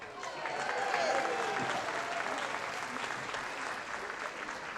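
Audience at the Ketchikan Wearable Art Show applauds in a steady, full wash of clapping that swells early and holds at moderate loudness throughout, with no voices on top.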